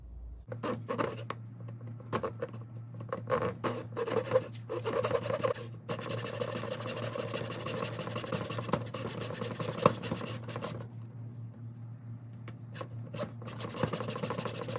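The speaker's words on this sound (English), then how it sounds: "Just using a small gent saw. Thin kerf, which is the same thickness as the aluminum." Small gent saw with a thin kerf cutting through an aluminum strip and maple in a segmented guitar pen blank held in an XY vise, a steady close rasping of repeated strokes with brief pauses.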